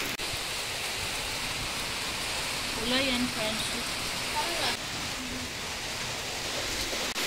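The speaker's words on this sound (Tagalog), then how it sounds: "Ulan pa rin" Heavy rain falling steadily outdoors during a typhoon, a dense, continuous hiss that stays loud throughout, with someone speaking briefly over it.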